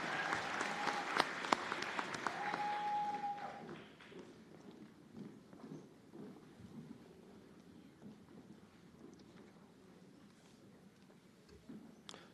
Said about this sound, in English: Another round of applause for them as they get ready to exit the stage.